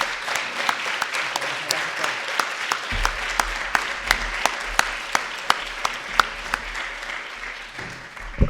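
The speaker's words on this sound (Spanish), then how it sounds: "solamente un aplauso al alcalde Claudio Castro" Applause for mayor Claudio Castro at a city forum: dense, steady clapping from a crowd with sharp individual claps standing out, a low rumble entering partway through, sustained for the whole stretch.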